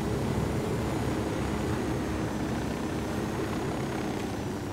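A helicopter from the video game Ghost Recon Wildlands drones in a steady, loud, broadband rotor and engine roar that holds unchanged throughout.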